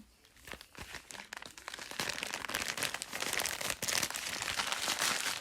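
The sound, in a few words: tearing open a Christmas gift package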